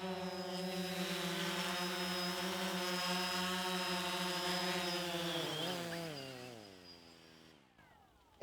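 A camera drone hovers with a loud, steady high-pitched propeller whine, then its motors wind down in pitch as it lands and fall nearly silent before a final click.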